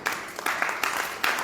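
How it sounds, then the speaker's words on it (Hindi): Clapping from an audience at an evening Hindi Hari-katha gathering in Vrindavan, India: dense, steady applause with a few louder surges, close and filling the whole moment. "जोर से ताली बजाए।"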